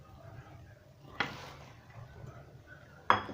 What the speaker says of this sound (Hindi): अब हम इसमें डालते हरी प्याज।